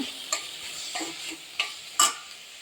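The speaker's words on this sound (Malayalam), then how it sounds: "ഇതൊന്ന് ചൂടാകുന്ന സമയത്ത് തന്നെ പച്ചമുളകും പിന്നെ ഇഞ്ചിയും വെളുത്തുള്ളിയും ചേർത്ത് കൊടുക്കുന്നുണ്ട്" Onion, green chili, ginger and garlic sauté in a pan for a Kerala chicken dish, soft sizzling broken by several sharp spatula scrapes and clinks at irregular intervals, quiet and close with no voices.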